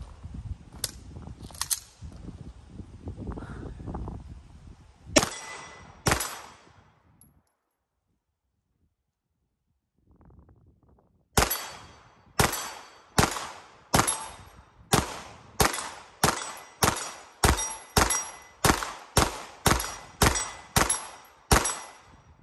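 Glock 17 pistol shots at a 25-yard range, first a few scattered loud cracks, then after a pause a steady string of about fifteen sharp reports in quick, even rhythm, each with a short ringing tail.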